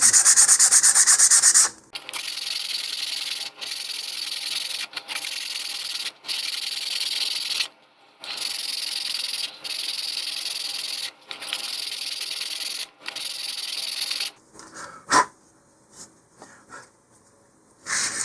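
100 grit sandpaper roughens a model rocket body tube, giving a loud, close, rhythmic scratchy rasp in about seven steady strokes separated by short pauses, ending with a few lighter scuffs and taps.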